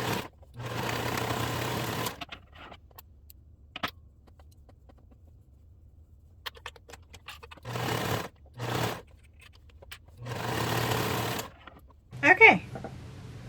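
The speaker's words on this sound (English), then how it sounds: "So now we're going to sew up those two." A home sewing machine stitches the seams of a raglan tee in several separate bursts of steady whirring, close and fairly loud, separated by quiet pauses and light handling clicks.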